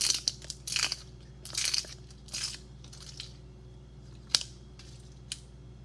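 A melted, multicolored recycled crayon having its paper wrapper peeled off up close, a run of crisp tearing and crinkling bursts with short pauses between them, fading to a few isolated crackles.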